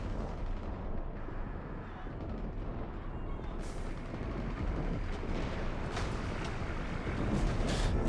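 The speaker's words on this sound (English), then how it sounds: "Yeah, that was a lot of explosions" Mass Effect 3's final battle on Xbox One fills the scene with rumbling artillery-like explosions, a dense low roar that swells louder in the second half with scattered sharper blasts.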